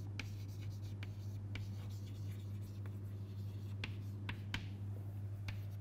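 Chalk or marker taps and strokes on a board during a math lecture, faint and intermittent over a steady electrical hum in a quiet room, with no talking.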